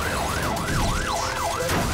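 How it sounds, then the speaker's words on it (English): A police car siren wails in steady rising and falling sweeps, loud and continuous, during a chase after a fleeing driver who refuses to stop. "But instead of stopping for the sirens, Chris takes off in more ways than one."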